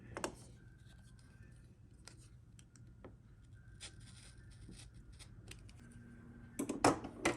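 Scissors or a cutter trims a small strip of quilt fabric along a ruler, producing soft scattered snips and light rubbing close by, with a louder burst of scraping and handling at the end.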